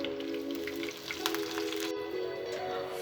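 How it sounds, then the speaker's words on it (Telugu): Cumin seeds, green chillies and curry leaves crackle and sizzle in hot oil for stuffed brinjal curry, a steady close frying hiss with small pops throughout. "ఆయిల్ వేడైన తర్వాత జీలకర్ర, పచ్చిమిరపకాయలు, కరివేపాకు వేసుకోవాలి."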